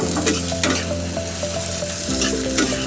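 Chopped tomato hitting hot oil with green chillies in a pan for small-fish curry, giving a loud, close, continuous sizzle with crackling bursts and stirring, no voices.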